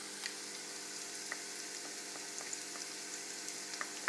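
Chopped onion and crushed garlic fry in a pan, giving a steady, soft sizzle with scattered faint pops and crackles, heard alone at low volume.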